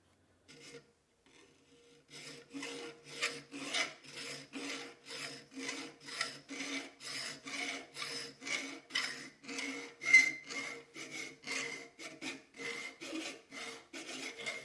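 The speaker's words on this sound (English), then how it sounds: "I should have chiseled and done a little bit of file work to this to make it look a little bit fancier." Steady back-and-forth rasping of a file against a forged steel cocktail stirring spoon, roughly two strokes per second, close and even, with no talk.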